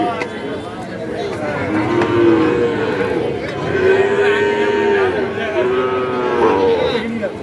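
Sahiwal-breed calves being fattened and traded at the Ambari cattle market in Dinajpur moo repeatedly, several calls close by over crowd chatter and a speaker talking.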